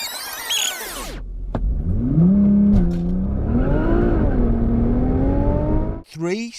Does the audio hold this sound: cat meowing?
no